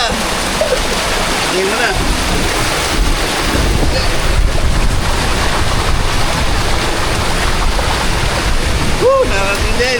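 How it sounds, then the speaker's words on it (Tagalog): Strong wind buffets the microphone over the roar of rushing water, loud and continuous throughout, while a voice speaks briefly. "Lakas na lang hangin at lakas na lang magasa ng tubig dito."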